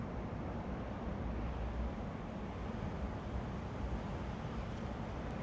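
A 1958 Ford Fairlane 500 Skyliner cruising down the road, with a steady low engine and road rumble mixed with wind noise, heard from inside the car at constant level without talk.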